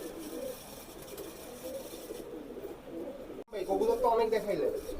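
Soft cooing of Pakistani Teddy pigeons kept as high-flying tournament birds, a low steady murmur running beneath voices talking, and it rises louder and busier over the last second and a half.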